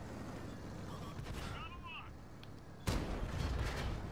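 Tank cannon fire during a video game battle: a muffled, low rumble of distant shots, then a sudden loud boom near the end followed by rolling noise, with faint game sounds between.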